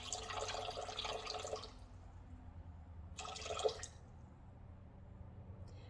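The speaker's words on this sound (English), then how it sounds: "I'm going to pour it in quite slowly just so it will register." Liquid poured slowly into a Thermomix bowl sitting on a scale, a trickling splashy pour for under two seconds, then a second short pour with a few drips, close and quiet against a low hum.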